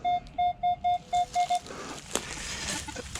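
Metal detector sounding a target tone while relic hunting in California, seven short, evenly spaced beeps in a quick rhythm, followed by scraping and digging noise in the soil.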